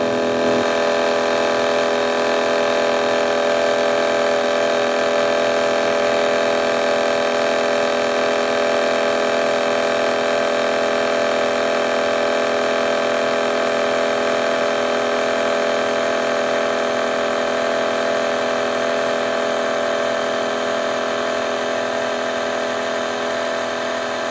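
A Seig mini lathe machines a tapered brass gib, giving a steady motor whine with many bright even harmonics that holds loud and constant throughout, with no voices.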